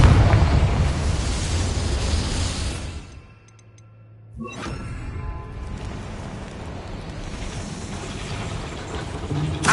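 The Confringo blasting spell goes off in Hogwarts Legacy, a loud rumbling explosion that drops briefly to near silence, then a sharp crack and a renewed roaring debris wash lasting several seconds, with no talk.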